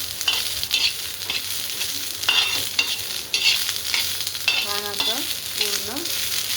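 Popcorn tempering sizzles and crackles steadily in hot oil, with loud continuous frying noise, stirring scrapes and a few higher squeaks from the pan.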